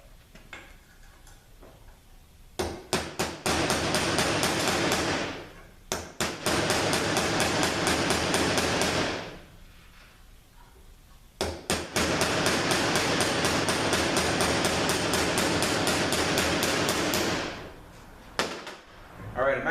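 A ZF6HP19 transmission bushing being cut out, heard as long bursts of rapid, harsh rattling and grinding, each run lasting several seconds with brief pauses between, loud and close.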